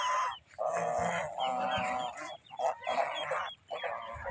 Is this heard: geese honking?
yes